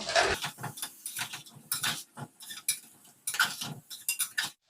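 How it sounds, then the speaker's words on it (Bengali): Chicken being stirred with ginger-garlic paste and salt for a pressure-cooker chicken stew; a spoon scrapes and clinks against the pan in quick irregular strokes, close and fairly clear. "সবকিছুকে একসঙ্গে নেড়ে চেড়ে খুব ভালোভাবে মিশিয়ে নেব"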